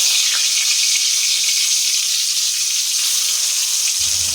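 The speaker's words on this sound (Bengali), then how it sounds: "বেগুনটা ভেজে নেব।" Brinjal slices fry in hot oil, giving a loud, steady, close-up sizzle that runs unbroken and alone throughout.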